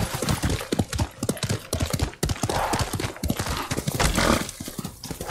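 The horse Kage gallops in Ghost of Tsushima, rapid rhythmic hoofbeats pounding close and loud throughout, with a brief whinny.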